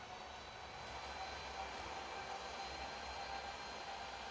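A Southwest Airlines Boeing 737 MAX 8 in the flight simulator game Infinite Flight produces a steady, even engine roar and whine over Florida, faint and unbroken, with no voices.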